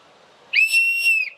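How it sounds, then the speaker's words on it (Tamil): A person outdoors among a crowd gives one short, shrill whistle lasting under a second, rising at the start and falling at the end, loud and close against faint background noise. "ஒரு விசில் அடிக்க முடியுமா?"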